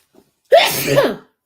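A single loud sneeze, sharp onset trailing off over about a second, heard up close.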